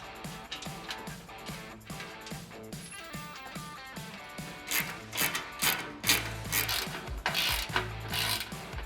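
Bolts being started by hand tool into a transfer case skid plate on a 2024 Toyota Tacoma, a close repetitive ratcheting rasp with rhythmic metallic clicks that grows heavier and louder in the second half.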